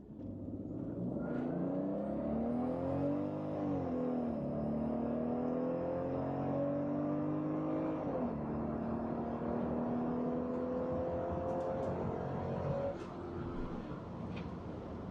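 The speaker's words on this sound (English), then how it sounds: "Yeah, it's just a quiet car" A quiet 90s car with a small twin turbo runs steadily, a smooth engine hum that rises and settles a few times with light whir, heard up close and without talk.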